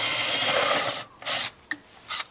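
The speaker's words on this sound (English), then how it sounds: "And then I'll take a drill to pre-drill a little hole in the bottom." A drill pre-drills a small hole in wood in short bursts, a long grinding run followed by three brief pulses, close up with no talking.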